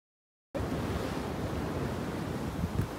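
Sea waves break on a beach in a steady, full rush of surf that starts abruptly and then holds without a break, close and moderately loud, with no voices.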